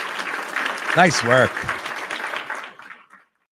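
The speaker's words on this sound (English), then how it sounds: "Let me give him a roaring round of applause." Scattered clapping from a crowd carries on under a man's brief spoken remark, then thins out and fades to silence.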